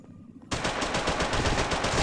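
Rapid automatic gunfire from a weapon in the video game Flex City: after a brief quiet moment, a fast, continuous burst of shots rattles on loud and close until the end.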